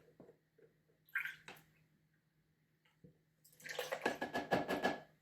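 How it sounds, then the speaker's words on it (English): Whole milk, half a cup, poured into a mixing vessel while preparing breakfast, giving a steady liquid splash that builds loud and continuous toward the end after a few brief clinks and handling noises. "Now we're going to put in a half a cup of milk."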